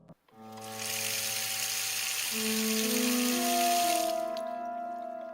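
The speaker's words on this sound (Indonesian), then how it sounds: "suara keran itu menyala lagi." Bathroom water tap turned on and running in a steady hiss, with a rising pipe whine underneath, close and alone with no voices.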